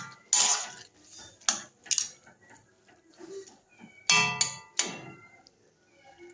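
A spoon stirs prawn curry in a pan over low gas, giving several sharp metallic scrapes and clinks in irregular bursts, loud and close, with quieter gaps between them.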